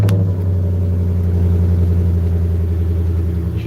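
Roush car idles nearby with a deep steady engine rumble, holding an even low tone throughout with no talk.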